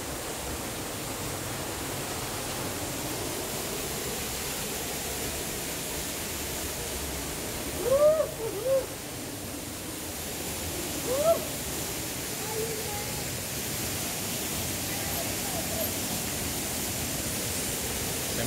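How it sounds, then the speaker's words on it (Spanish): Steady broadband roar of the Cascada del León Dormido waterfall near La Merced, Chanchamayo, filling the scene continuously with a couple of faint higher calls briefly surfacing over it. "de la cascada del León Dormido."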